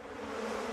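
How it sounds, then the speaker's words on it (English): Bees from The Simpsons buzz in a steady, dense drone at close range, holding even loudness throughout with no talk. "kill the bees!"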